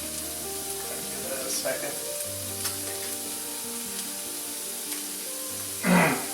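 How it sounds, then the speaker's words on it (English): Fresh grouper being flash-seared in a hot pan gives off a strong, continuous sizzle. A voice briefly speaks over it, and there is a sudden louder hiss and spatter near the end. "So I'm going to like flash sear the fish"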